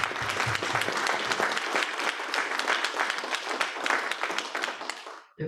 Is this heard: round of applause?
yes